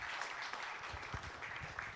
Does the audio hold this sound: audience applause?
yes